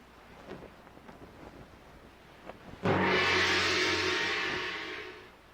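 A sailboat crosses the sea in Zelda: Wind Waker. Quiet game ambience gives way to a loud, sudden rush of wind and waves that holds steady and then slowly fades.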